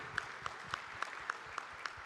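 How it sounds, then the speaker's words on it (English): Hand claps at an event ring out at an even, steady pace, about seven distinct sharp claps, fairly faint against a low background murmur. "Can we have a huge round of applause?"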